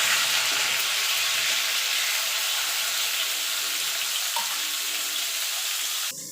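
Potato and pointed gourd pieces fry with a little salt in a pan until browned, giving a loud, steady, close sizzle that runs unbroken before cutting off abruptly near the end.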